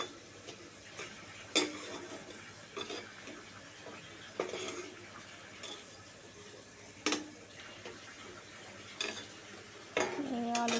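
Half-fried potatoes lifted out of a pan of hot oil in a home kitchen, heard as sparse metallic scrapes and clinks of a utensil against the pan, a few sharp taps spread over quiet background.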